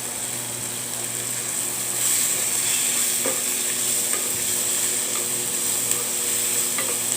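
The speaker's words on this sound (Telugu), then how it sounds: "ఇప్పుడు దీనిలోనికి టమాటా ముక్కలు వేసుకుంటున్నాను." Tomato cubes sizzling in hot oil in a pan while being stirred for paneer bhurji, a steady close frying hiss with occasional scraping taps of the spoon.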